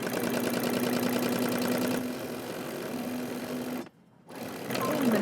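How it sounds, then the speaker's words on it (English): A sewing machine stitches a seam with a back stitch, a close steady mechanical whir that runs continuously, pauses briefly near the end and then starts again. "I'm going to back stitch and I'm going to stitch all the way around"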